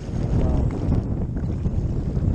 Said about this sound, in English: I got my stern into the waves and the wind.